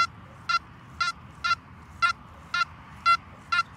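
A Makro Gold Kruzer metal detector gives seven short, evenly spaced electronic beeps about half a second apart during outdoor field detecting, loud and clear over a faint background hiss.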